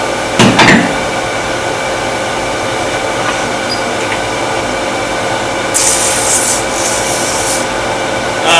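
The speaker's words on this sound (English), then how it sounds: "Okay, a little sanding." Sandpaper, about 180 grit, rubs back and forth over a round metal skew chisel for wood turning, a continuous gritty scraping that grows rougher and louder in a burst toward the end.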